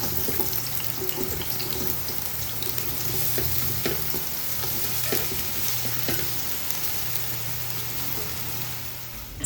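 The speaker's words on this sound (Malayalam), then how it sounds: "എണ്ണയൊക്കെ ഒന്ന് നന്നായിട്ട് ചൂടായി വരുമ്പോൾ കട്ട് ചെയ്ത് വെച്ചിട്ടുള്ള സവാള ചേർത്ത് കൊടുക്കുക." Sliced onions fry in hot sunflower oil, a continuous close sizzle and crackle with occasional sharp clicks of a utensil stirring against the pan.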